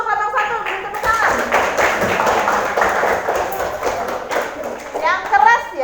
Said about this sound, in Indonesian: Kita beri semangat dulu untuk kelompok 1, beri tepuk tangan.